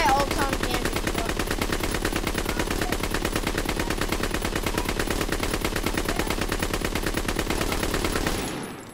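Rapid automatic gunfire from Call of Duty: WWII rattles in loud, dense, continuous bursts for about eight seconds, then stops abruptly.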